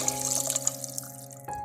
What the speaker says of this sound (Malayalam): ഇപ്പം നമ്മൾ 8 ഗ്ലാസ് വെള്ളമാണ് എടുക്കുന്നത്